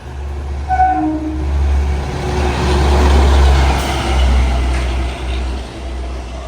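A heavy rumbling train rolls past close by at Kalanad railway station in Kasaragod, with a short horn near the start and a low, steady roar that swells and fades.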